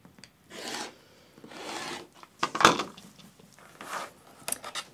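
Rotary cutter or scissors trimming the fabric edges of a quilt, heard as a few close, dry rasping strokes with brief pauses between them and a sharper scrape midway.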